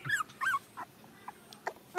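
Several newborn puppies whimpering and yipping in thin, high cries, a few short bursts close by with quieter whines between them and no talk.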